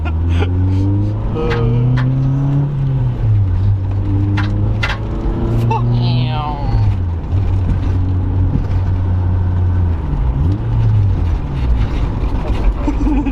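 BMW E30 car engine downshifting and revving, loud and close from inside the cabin with rising and falling engine tones and gear changes, while people talk over it.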